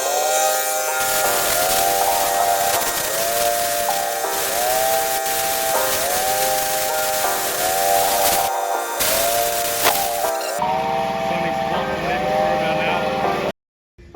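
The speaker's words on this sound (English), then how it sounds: "We've hooked the airline up, and then you can give it a blowout to help dry it out" An air line blows out a part from an S15 drift car with a loud, steady hiss that runs nearly unbroken for about thirteen seconds over warbling background tones, then cuts off abruptly.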